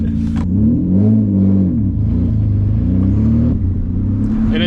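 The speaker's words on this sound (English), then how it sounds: "And it's like revving now." A single-turbo Nissan 350Z DE engine revs loudly up and down with a deep, rumbling growl and a slight misfire, its pitch rising and falling in several swells.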